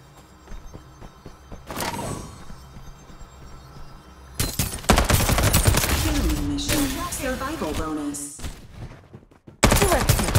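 Bursts of rapid gunfire and impacts from the video game Farlight 84 crackle loudly in clusters, broken by short pauses, with game voice lines and effects mixed in.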